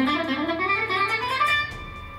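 Thin-stringed guitar picked with a very thick pick, giving a run of close, bright single notes that ring on together, played alone with no talking.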